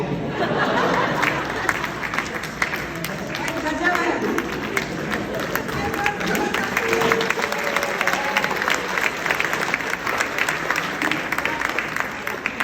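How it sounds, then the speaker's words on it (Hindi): Audience at a Hindi stand-up comedy show clapping steadily throughout, a dense wash of applause mixed with crowd chatter and scattered laughter. "मतलब पति तो ऐसे तालियां बजा रहे जैसे घर की कथा चल रही हो।"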